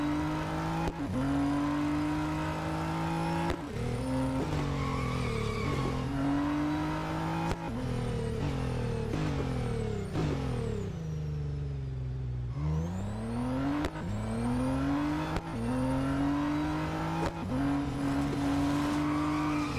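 Race car engine in Real Racing 3 at Circuit de Catalunya, loud and continuous, revving up and shifting through repeated gear changes, dropping sharply around a crash or braking, then climbing again.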